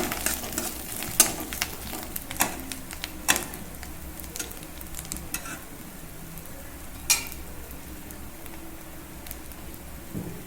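Fish roe frying in a pan over lowered gas, a faint crackling sizzle with scattered sharp pops and a few clinks of a utensil, close but quiet.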